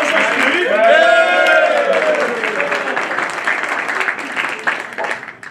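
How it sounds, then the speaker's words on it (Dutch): An audience at a KBO Molenhoek senior association Sinterklaas gathering applauds in a sustained, fairly loud wash of clapping that slowly fades. A voice speaks over the opening moments. "Graag een applausje voor een speciale dame in jullie midden."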